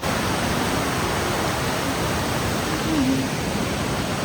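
A waterfall gives a continuous, even roar of broadband rushing water that holds steady throughout, close and loud, with no talk.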